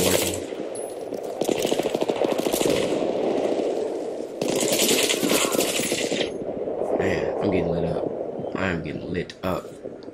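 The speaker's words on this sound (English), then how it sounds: "M4 is automatic. It's burst fire." Rapid M4 burst-fire gunshots in the video game Battlefield 3, repeated rattling volleys up close with explosions and battle noise, someone talking over the shooting.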